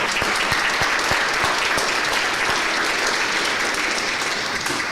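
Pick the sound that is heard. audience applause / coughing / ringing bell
audience applause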